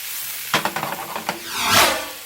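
Mushrooms hit a hot pan and sizzle, a few sharp crackles and spatters at close range swelling into a loud steady hiss.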